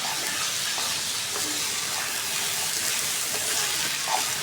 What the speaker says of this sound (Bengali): কষাই নিতেছি।